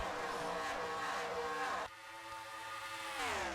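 Race cars in a simulated superspeedway series race roar past close, a loud continuous engine drone with pitch sweeps as cars pass and shift.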